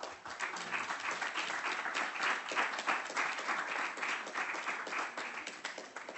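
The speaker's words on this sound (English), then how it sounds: "Round of applause." A conference audience gives dense, continuous applause at an award ceremony, with many hands clapping steadily and fairly loud the whole time.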